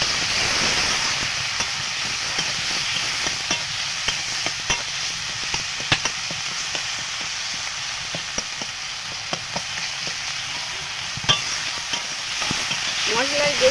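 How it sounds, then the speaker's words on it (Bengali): Ginger paste is stirred into a mustard-fish masala for tilapia in a frying pan, with a steady loud sizzle and hiss and faint scraping stirs throughout, no talking. "দিয়ে দেব আগে থেকে বেটে রাখা আদা, দিয়ে আরও কিছুক্ষণ নাড়াচাড়া করে নেব"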